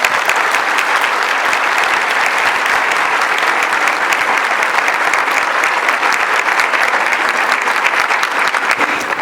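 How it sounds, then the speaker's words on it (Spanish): An audience at an academic inauguration ceremony applauds loudly and continuously, a dense, even wash of many hands clapping with no pause or speech. "yo le quisiera pedir un aplauso"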